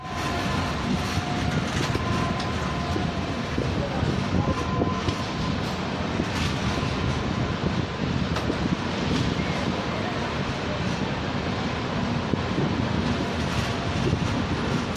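Shatabdi Express train running at about 40 km/h between Katpadi and Arakkonam, with a steady, dense rumble of wheels and rail noise and wind buffeting throughout.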